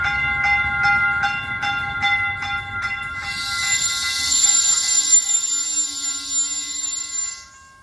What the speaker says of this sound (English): You can see beautiful Cal train is coming with red and white color.